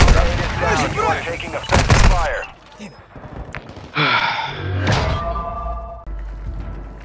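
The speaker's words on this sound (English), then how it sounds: "Taking effective fire." Gunfire in a tactical shooter video game, loud sharp shots in the opening seconds with more thuds later, mixed with players talking over comms.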